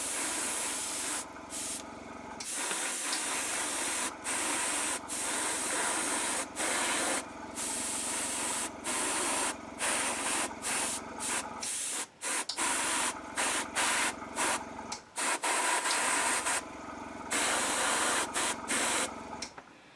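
Repeated short bursts of fine spraying hiss as paint is sprayed gently onto a model, an airbrush-like spray pulsing on and off with brief pauses between, close and steady.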